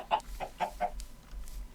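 Minecraft chickens under a windmill build clucking in a short burst of four close, evenly spaced clucks, followed by fainter scattered cackles, with no voices present.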